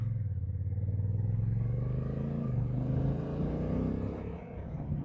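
A Honda NT1100 motorcycle rides along gravel-strewn country lanes, its engine droning steadily and close with a low, throbbing rumble that eases slightly near the end.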